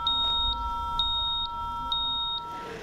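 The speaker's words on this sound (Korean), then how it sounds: "농기계에 부착된 무선통신 단말기가 45도 이상 기울어지면 사고 발생 경보를 울리고" A wireless terminal mounted on farm machinery sounds its accident alarm after tilting past 45 degrees: a steady run of short, evenly spaced electronic beeps, about two per second, clear over a low background hum.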